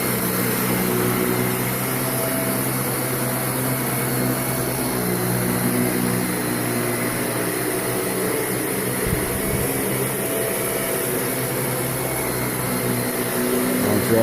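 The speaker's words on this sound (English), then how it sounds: "Vacuuming the floor," A vacuum cleaner runs steadily on a home floor, a continuous loud motor whine and airflow roar that holds unbroken throughout with no voices over it.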